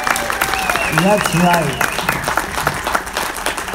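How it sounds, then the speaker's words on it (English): An audience at a Killer Klowns from Outer Space convention panel at Spooky Empire breaks into loud, sustained clapping, with a voice talking over it. "Can we get a big round of applause?"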